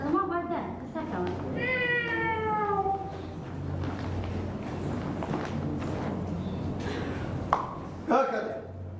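A cat meows several times in a domestic setting, the drawn-out cries rising early on over steady background noise and household sounds, with people talking nearby.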